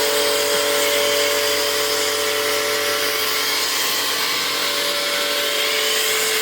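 A Homdox 2.3 GPM electric high-pressure washer runs steadily while drawing soap, giving a loud, constant motor whine with a hissing spray that holds even throughout.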